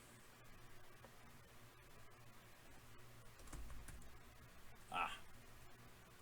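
Light, scattered clicks of a computer keyboard are heard during a late-night live show, faint and intermittent beneath low room hiss, with a louder burst of key taps near the end.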